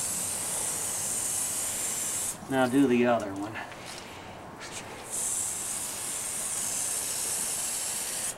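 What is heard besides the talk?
spraying liquid onto feet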